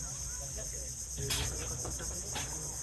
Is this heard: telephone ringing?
no